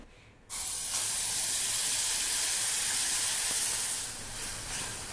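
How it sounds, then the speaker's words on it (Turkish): Milk cream poured into a hot saucepan for a Turkish coffee macaron sauce gives a sudden, loud, steady hiss that starts abruptly and holds, easing slightly toward the end. "Öncelikle sos tavama süt kremasını atıyorum."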